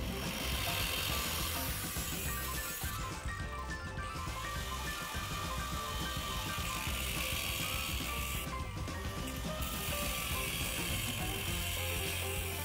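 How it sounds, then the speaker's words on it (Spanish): Cut-off grinder slicing through a metal workpiece face, a loud continuous grinding whine with rattling, ratchet-like texture, close up, easing briefly twice before resuming, no voices. "con la ayuda de nuestro esmeril de corte vamos a cortar la cara que nos ha quedado"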